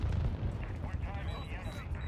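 An artillery strike in the video game Modern Warfare booms and rumbles heavily and continuously, dense low blasts layered with game effects, while a player talks over it.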